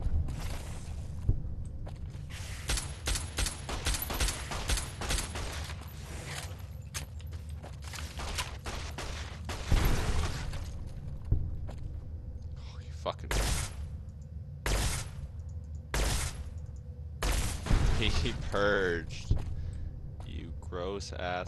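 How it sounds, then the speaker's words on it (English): Gunfire in Fallout: New Vegas, a run of loud sharp shots and bangs over game sounds, with someone talking throughout. "Why are you firing at things already?"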